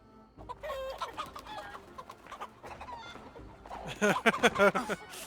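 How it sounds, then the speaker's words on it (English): Chickens in Assassin's Creed Valhalla gameplay, clucking and squawking close by in busy bursts that grow louder and denser toward the end, alongside game sounds. "Are we fighting chickens?"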